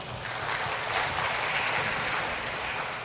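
A church congregation applauding, dense sustained clapping that fills the space evenly at a steady loudness from start to finish, with no speech over it.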